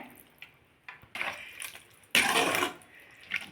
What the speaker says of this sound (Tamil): தேவையான அளவு தண்ணியை இப்போ சேர்த்துடலாம்